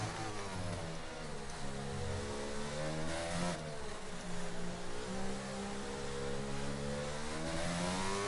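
An F1 car in the F1 22 video game accelerates up to speed, its engine note climbing steadily in pitch, loud and continuous without a break.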